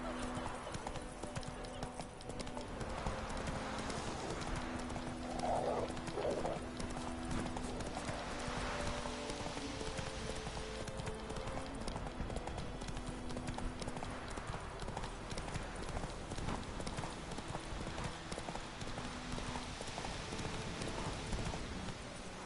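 Steady clip-clop of horse hooves trotting on and on in the video game The Witcher 3: Wild Hunt, with occasional faint voices and a brief whinny in the mix.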